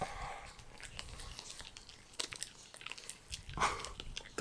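A Pekingese dog chews rib bones, with sporadic close crunches and bites that grow sharper toward the end.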